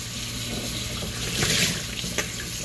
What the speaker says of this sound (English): We are gonna make some mushroom burgers, Portobello mushroom caps. Just rinsing these off right now.